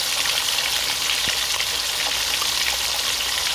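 Tempeh and fish sizzling steadily in hot cooking oil, a dense, even crackle and spatter that holds at a constant level throughout with no voices.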